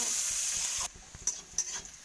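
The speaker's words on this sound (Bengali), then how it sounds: "পেঁয়াজ একটু লাল লাল করে ভেজে নেব" Chopped onions with a pinch of salt fry in a pan, giving a loud, dense sizzle that abruptly drops to a quieter hiss, broken by a few stirring scrapes and spatters.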